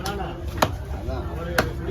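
A knife chops through a sadukkam fish at a fish-cutting stall in Kasimedu, two sharp thuds about a second apart, close and fairly loud over background noise.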